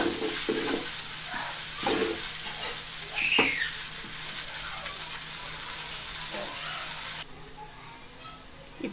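Parched rice grain being dry-roasted with sprinkled coconut-lentil powder in an iron pan over a flame, giving a steady sizzle and crackle with occasional scraping stirs, fairly close and continuous.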